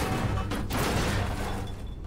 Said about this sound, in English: Sniper rifle.